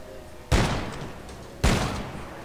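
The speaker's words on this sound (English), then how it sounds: "Compact standard revolver now." Compact standard revolver fired in the sci-fi shooter game Dead Space 3: two loud, sharp shots spaced about a second apart, each followed by a long rumbling decay, with no voices.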